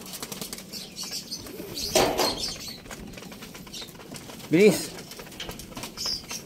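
Racing pigeon arriving at its loft, with a couple of sharp bursts of wing flapping and a soft coo, while someone talks nearby.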